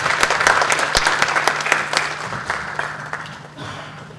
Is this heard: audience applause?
yes